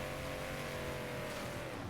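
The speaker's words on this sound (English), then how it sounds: "And I see a car on the mini-map straight ahead." Car driving in a video game, a faint steady engine hum with slight revving, continuous and distant-sounding, no voices.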